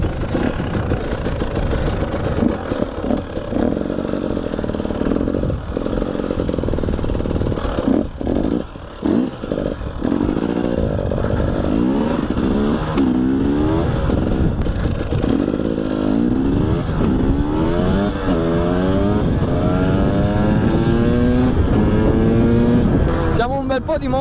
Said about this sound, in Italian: Siamo un bel po' di moto oggi, se non sbaglio siamo in 6.